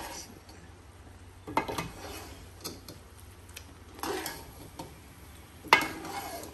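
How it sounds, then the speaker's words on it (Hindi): Rice being stirred in a cooking pot, with a few soft scrapes and clinks of the spoon against the pot, including a sharper knock near the end, all faint and close with no talking. "इनको अच्छी तरह से मिक्स कर देंगे।"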